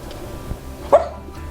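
A single short bark from Rodeo, a dog, sounds once near the middle against a quiet indoor room.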